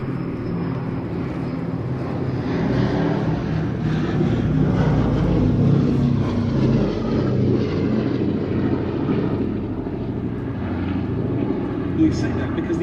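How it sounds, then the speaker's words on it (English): B-17G Sally B bomber flying a display over Duxford, a steady droning multi-engine propeller roar that swells slightly mid-pass, with a commentator speaking over it. "what a pleasure to once again see a display over Duxford from B-17G Sally B"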